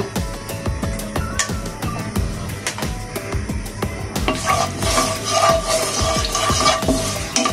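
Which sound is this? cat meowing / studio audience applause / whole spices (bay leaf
whole spices (bay leaf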